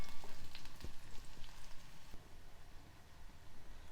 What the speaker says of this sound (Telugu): ఈ వెల్లుల్లి కూడా కొంచెం వేగనివ్వాలి.